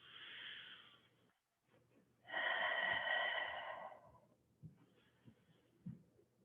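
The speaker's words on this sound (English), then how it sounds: "Let's take 2 slow breaths here." Slow, deep breaths during a gentle yoga flow in gorilla pose, with a soft exhale at the start and a louder, drawn-out breath in the middle, then quiet with faint low thumps.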